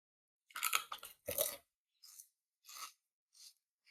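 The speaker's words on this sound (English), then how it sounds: "These are so crunchy and flavorful. Let's do the crunch test." Close, crisp crunching of a crunchy gluten-free, dairy-free snack: two or three loud bites followed by several quieter chews spaced out over silence.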